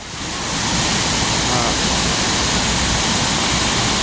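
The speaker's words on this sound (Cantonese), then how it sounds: "而家咧就嚟到呢個十分瀑布" Shifen Waterfall in Taiwan roars as a steady, loud broadband rush of falling water, filling the whole scene without a break.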